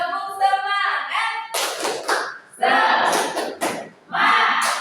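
A class performs the tepuk semangat clapping chant, voices chanting in rhythm between bursts of group hand clapping, loud and close.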